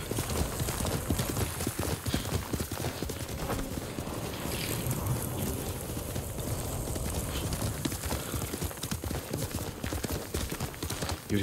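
Horse hooves clip-clop steadily in Ghost of Tsushima, a continuous rhythmic trotting over ambient game sound, fairly close and consistent throughout with no talk.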